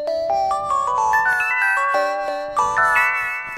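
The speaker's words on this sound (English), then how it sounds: "It's kind of a bell sound." A bell-like instrument patch on a Roland Verselab MV-1 plays a short melodic phrase of bright, chiming notes in quick succession, each ringing with a clear tone. It is loud and close, with no voices.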